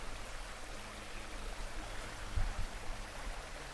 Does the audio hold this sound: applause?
no